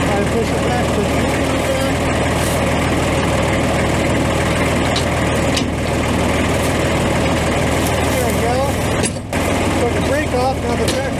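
A tractor engine idles steadily and close by with a low, constant rumble throughout, while other mechanical clatter sounds over it.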